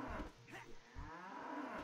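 Cows mooing in the World of Warcraft video game, a couple of drawn-out low moos close by within two seconds, no talk over them.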